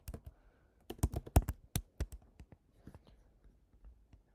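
Keys clatter on a computer keyboard as a name is typed into an online residence permit form, a quick irregular run of close clicks that thins out toward the end.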